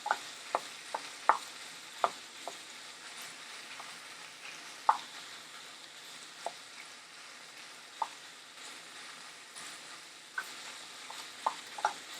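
Minced meat and garlic frying in a pan, stirred and broken up, with a soft continuous sizzle and irregular sharp clicks of the utensil against the pan, close and alone.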